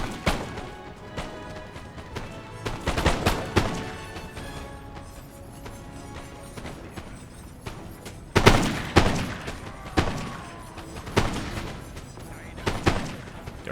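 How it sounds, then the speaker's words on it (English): Musket volleys and artillery fire in the Napoleonic battle game Napoleon: Total War, with Polish Legion infantry firing on Prussian Fusiliers. Scattered crackling shots build into several sharp, loud volleys and booming blasts over a steady battlefield din. "Let's go ahead and zoom in here to the Polish Legion, firing into the ranks of the Prussian Fusiliers."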